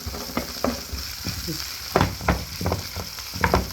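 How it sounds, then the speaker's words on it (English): Raw meat frying in a pot for Lebanese okra gives a loud, steady sizzle broken by repeated stirring scrapes and clunks, heard up close with no voices. "put the meat now, the raw meat in here. Fry it off."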